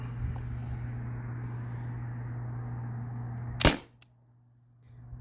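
Single sharp shot from a modded Gen 1 MCS foam dart blaster (T4E TR50 HDR50 with Devastators), a crisp snapping crack over a steady low machine hum, which drops away after the shot.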